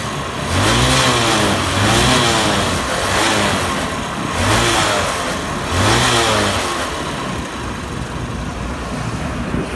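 A motorcycle engine revs up and drops back several times in a loud, close series of throttle blips, rising and falling steadily over a rough idle.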